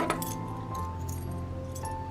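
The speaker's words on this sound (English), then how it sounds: "What's super cool about this hotel is that they give you keys." Metal hotel room keys jingle and clink close by in short bursts over a steady low hum of the room.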